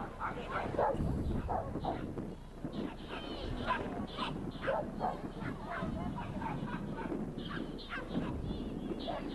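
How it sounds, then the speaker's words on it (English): A dog barks repeatedly in quick, uneven yaps, fairly faint and set against a noisy background with some honking, fowl-like calls. "And the dog's pretty noisy as well, isn't it?"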